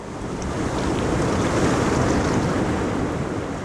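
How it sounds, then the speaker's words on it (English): Ocean waves washing on a beach, a dense continuous roar of surf mixed with wind buffeting the microphone, loud and steady with no voices. "It sounds like we're at the beach or something. Could those be waves?"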